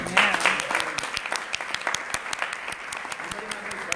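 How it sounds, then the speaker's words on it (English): An audience applauds at a city summit gala, a crowd's crisp claps rising quickly and then continuing steadily at moderate loudness, with a brief cheer or voice near the start. "How about a round of applause for Manny?"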